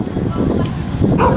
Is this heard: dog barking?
yes